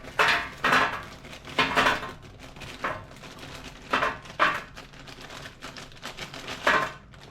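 McCain crinkle-cut oven chips clatter out onto a metal tray in several bursts of hard, rattling knocks spaced through the moment, close and fairly loud with no talk over them.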